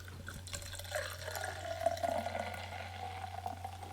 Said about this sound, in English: Just listen to that sound of it pouring